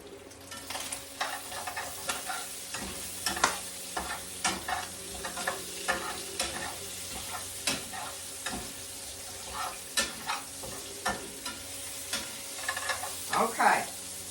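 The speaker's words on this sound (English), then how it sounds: "I'm going to get this bacon cooked up crispy" Bacon crisping in a pan sizzles steadily with repeated scraping and stirring clicks throughout, fairly close, with no talking.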